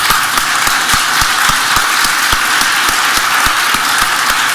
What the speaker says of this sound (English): of applause, please, for our amazing panelists.